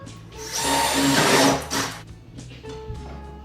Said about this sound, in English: I just drill those holes, starting at the top of the stairs